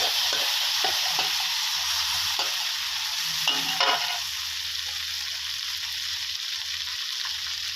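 Vegetables, marinated pork and fried garlic stir-fry in a hot wok for a Thai rad na, giving a steady, close, loud sizzle with intermittent scraping stirs and no talking.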